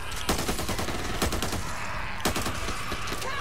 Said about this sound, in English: Bro, who the fuck is shooting me